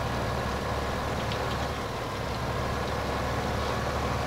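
Tractor engine in the video game Farming Simulator 15, a steady low idling drone held continuously without a break, loud and close.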